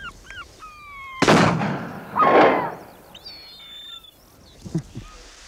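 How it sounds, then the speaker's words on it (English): A flare gun is fired as a decoy: a sharp, loud bang followed by a second rushing burst, with thin gull cries in the background before and after. "The flare's just a decoy."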